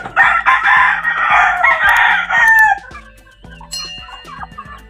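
Five young male chickens crow and cluck close by, with a loud raspy call for the first few seconds followed by scattered short clucks and pecking sounds.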